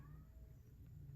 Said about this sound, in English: so sorry about the cat in the background